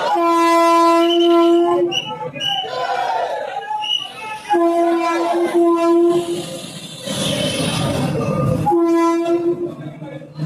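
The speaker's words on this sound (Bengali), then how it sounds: "ট্রেন বেরিয়ে যাচ্ছে" A Vande Bharat sleeper train on the Howrah to Guwahati route pulls out of New Jalpaiguri station, its horn sounding in long loud steady blasts at the start and again midway and at the end, with rumbling rail noise between and some voices nearby.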